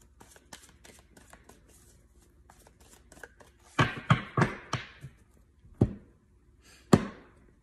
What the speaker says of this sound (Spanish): Vamos a partir las cartas en tres.